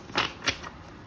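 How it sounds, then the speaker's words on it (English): A deck of tarot cards is shuffled quietly, with two soft riffling bursts close by and no talk. "I'm just gonna shuffle one more time."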